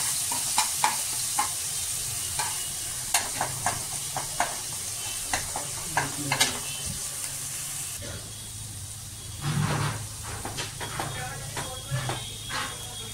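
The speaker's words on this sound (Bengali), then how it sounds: "এবার এর মধ্যে দিয়ে দিচ্ছি পেঁয়াজ বাটা, আদা বাটা আর রসুন বাটা, এটাকে একটু ভালো করে কষবো।" Onion, ginger and garlic paste fry in a pan for chilli mushroom, with a steady close sizzle and hiss broken by repeated scraping stirs of the spatula.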